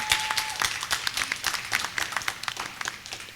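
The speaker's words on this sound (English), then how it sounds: "one more round of applause for our panel" At a university women's entrepreneurship event, a crowd applauds a panel. Many hands clap at once in a dense, uneven patter that holds steady throughout, moderately loud with the room's ambience behind it.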